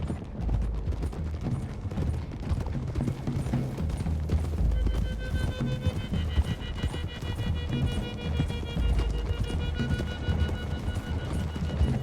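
Horses gallop in a steady clip-clop rush with a neigh, over a bed of music and rumbling action noise, busy and continuous throughout, in the video game Red Dead Redemption 2.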